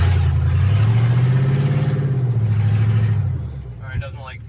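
A Chevrolet Silverado mud truck with 276,000 miles and bald highway tires revs hard in two-wheel drive while stuck, its engine droning loud and close in rising and falling surges before easing off, with brief voices near the end.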